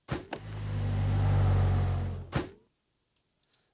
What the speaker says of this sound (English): That sort of gives us the sound of the robot moving forward here.